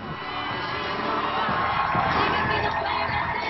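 A large audience of nearly 3,000 people roars with cheering, whoops and applause as Michelle Obama is welcomed, a dense, steady wall of crowd noise that swells slightly midway and holds loud throughout.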